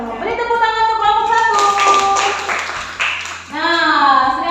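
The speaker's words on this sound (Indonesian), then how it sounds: "Beri tepuk tangan untuk kelompok" Clapping in a classroom after a group presentation swells for about two seconds, mixed with overlapping children's and adults' voices that continue throughout.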